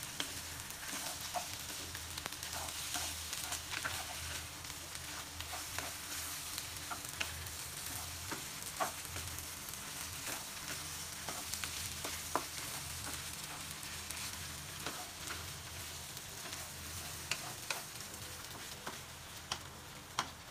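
Taro and other ingredients for taro rice are stirred in a hot pan. A continuous sizzle and fry runs under frequent light ticks and scrapes from the spatula, close and steady for the whole stretch, with no talk.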